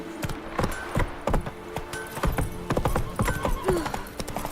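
Roach, a horse in The Witcher 3, trots with a steady, close clip-clop of hooves, occasional short snorts and a brief whinny, over a soft game ambience.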